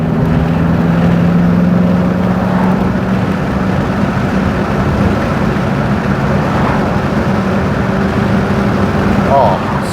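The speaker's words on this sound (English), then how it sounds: "That engine is so good." A steady low V8 engine drone runs throughout from inside a moving classic Daimler 2.5 Litre, with road and wind noise layered over it and no clear gear changes.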